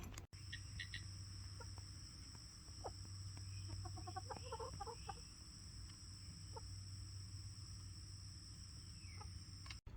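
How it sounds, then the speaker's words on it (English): Chickens cluck outdoors in a farmyard, a scattered run of short calls from the flock rising mid-stretch over a steady insect-like hum and constant background noise. "show you the chickens real quick"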